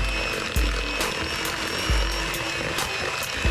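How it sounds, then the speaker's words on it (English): An electric mixer runs on medium speed, beating butter and sugar for a pound cake batter. It gives a steady, continuous motor whir with periodic low thumps as the beaters knock the bowl. "we're going to beat it together with an electric mixer on medium until it's fluffy and smooth"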